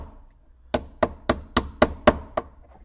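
Seven sharp metal hammer knocks on a Nissan Qashqai ignition lock, struck at a steady, fairly quick rhythm, each a loud close crack with a short ring, over a quiet garage background.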